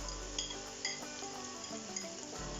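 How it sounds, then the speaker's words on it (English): Vegetables with onion and garlic sautéing in a pan for Jamaican-style canned sardines, giving a constant soft sizzle with occasional light clinks of utensil on pan. "whilst that's starting to cook and saute, I'll put in the rest of the vegetables, which is onion and garlic"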